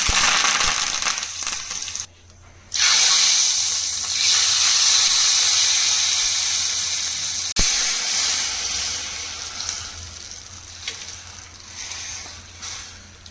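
Curry leaves hit hot oil for a tempering with asafoetida, a loud bursting hiss and crackle that briefly cuts out, then resumes and slowly settles into a steady sizzle, with no one speaking.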